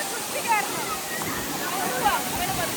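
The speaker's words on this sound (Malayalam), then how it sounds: "നല്ല ഫോഴ്സ്ഫുള്ളിയാണ് വെള്ളം വരുന്നത്." Forceful waterfall in Idukki, a constant roaring rush of water filling the scene, with faint voices talking under it.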